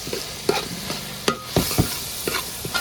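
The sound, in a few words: stirring onion, ginger, chili frying for chicken curry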